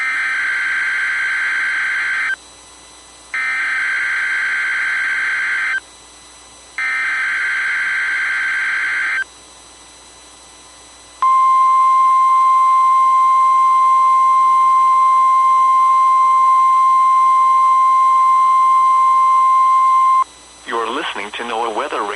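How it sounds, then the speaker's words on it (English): A NOAA Weather Radio alarm test from Pittsburgh, Pennsylvania: three loud buzzing tone bursts with short gaps, then a long steady high tone lasting about nine seconds, cut off by a brief burst of noise. "The preceding tone signals were a test of the alarm device of this weather radio station."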